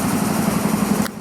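A smoking small engine races at very high RPM, a loud steady drone pulsing with rapid valve chatter before cutting out abruptly near the end.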